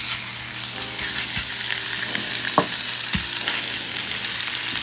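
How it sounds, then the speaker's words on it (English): Pork sizzling in an oiled pan over medium-high heat with a garlic and ginger mix, a steady loud crackle throughout broken by a few sharp clinks of stirring, for a hot Thai coconut curry. "It's time to preheat the pan to a medium-high heat. Oil's on. Garlic ginger mix in. Then we're gonna add the pork."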